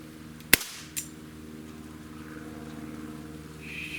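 A single sharp shot from a Walther CP88 air pistol fired in double action, a crisp close crack followed by a fainter tick, then a steady low hum.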